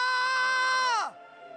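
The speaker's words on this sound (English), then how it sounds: "To scream real loud." A character in Final Fantasy X HD lets out a loud, sustained scream that holds steady for about a second, then drops sharply in pitch and cuts off, leaving a faint tonal hum behind.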